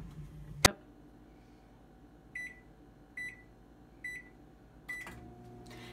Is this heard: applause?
no